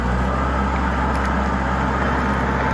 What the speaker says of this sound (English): That's pretty impressive, that tractor can get that up that muddy hill.